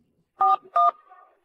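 Two short dual-tone keypad beeps from a telephone being dialed, loud and close, with a faint tonal tail after the second press.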